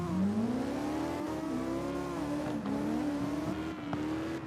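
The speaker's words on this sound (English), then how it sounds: "So you can hear the volume of the car's engines in game, right?" Race car engines in a racing video game whine steadily and loudly throughout, a rising, sustained engine drone with no talk.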